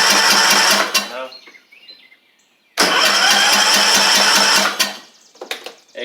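Troy-Bilt TB42 riding mower with a 541cc Powermore engine, in need of a head gasket and carburetor work, cranks in two loud sustained bursts of about two seconds each, with a short pause between them.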